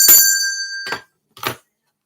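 A small bell rings out with a bright sustained tone that slowly fades, followed by two brief shaken jingles, all close and clear, with no talk.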